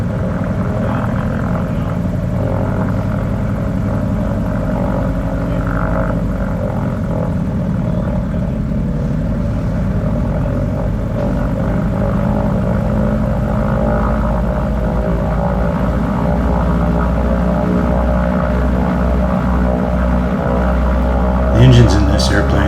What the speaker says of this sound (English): The engines in this airplane are Wright 1820-76s.